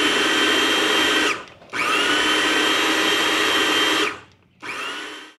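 A food processor grinding onion, green onion and shiitake mushroom runs in loud, steady whirring bursts, three in a row with brief pauses between, with no talking.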